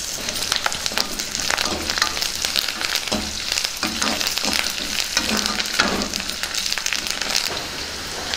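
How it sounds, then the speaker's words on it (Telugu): Dried red chillies and curry leaves fry in hot oil with garlic for Andhra mudda pappu, producing a continuous crackling sizzle with occasional stirring scrapes, close and steady. "వీటిని కూడా బాగా వేయించుకుందాం. ఇందులోనే ఎండుమిర్చి వేసుకుందాం. అలాగే కరివేపాకు వేసుకుందాం."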